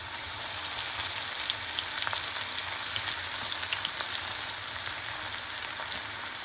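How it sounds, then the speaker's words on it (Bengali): Taro stolons go into a deep pan of hot oil over high flame, giving a dense, even sizzle with fine crackles throughout, close and constant, with no voices. "এখন আমি এখান থেকে অল্প অল্প এই কচুরলতিগুলি দিয়ে দিচ্ছি।"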